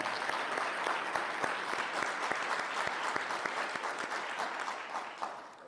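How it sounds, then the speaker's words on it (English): A crowd at a city-hosted summer youth employment program signing day breaks into steady, dense applause with distinct individual claps, continuing evenly before tapering slightly at the end. "Give her and these other young folks a round of applause."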